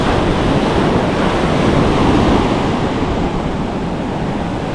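Ocean surf breaks on a New Jersey beach during south wind and rain, a loud, continuous roar of waves with heavy wind buffeting the microphone and no voices.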